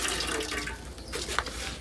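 Excess water is poured off a pot of ugali being cooked, a steady close splashing and trickling stream that runs continuously with small drips and spatters.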